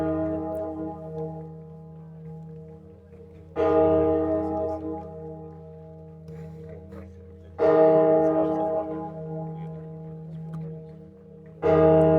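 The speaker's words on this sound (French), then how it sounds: "On entend les cloches de la Bonne Mère." The bells of Notre-Dame de la Garde basilica in Marseille toll during an Olympic flame relay event. Three loud, slow strikes come about four seconds apart, each leaving a long, humming decay.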